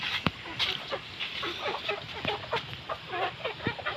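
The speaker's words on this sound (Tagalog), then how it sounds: "May mga manok." Chickens cluck and chatter nearby in short, irregular bursts, with a few sharper clicks scattered between the calls.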